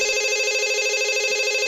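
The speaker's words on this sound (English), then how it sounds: "My mobile phone starts to ring, cutting my thinking short." A mobile phone ringtone in the visual novel Katawa Shoujo sounds as a steady, loud electronic ring that holds unbroken for the whole moment, with no voices over it.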